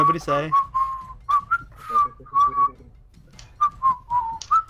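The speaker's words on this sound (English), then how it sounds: "stop whistling into the mic" Someone whistles a short wavering tune right up close in several bursts, with a brief voice at the start and pauses between notes.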